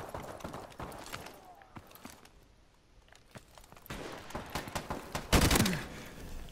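A player's gunshots in a video game, a loose run of quick pops and clicks that fades into a quieter stretch, then returns with another burst and one heavy, loud blast.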